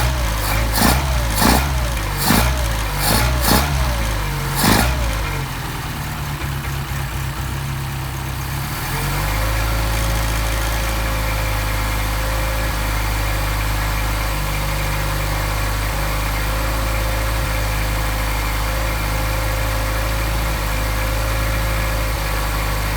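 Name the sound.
Mercedes 190SL engine with Solex carburetors idling, warming up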